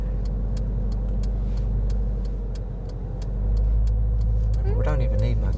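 A car engine idles steadily and then revs up, its pitch rising and falling, with a voice talking briefly over the rumble.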